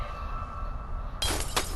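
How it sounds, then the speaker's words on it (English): Glass crashes in the Friday the 13th video game, a sudden bright, broadband burst that breaks in near the end over a low game hum and carries on briefly as scattered breaking. "now we just heard some glass crashing"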